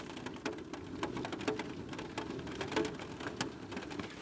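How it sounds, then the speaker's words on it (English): Rain patters on the roof of a camper van, heard from inside near the ceiling as a soft, irregular stream of individual drop taps over a low steady hiss, with no voices. "I'm going to stick it up by the ceiling so you can hear the rain ever so slightly tickle on the roof."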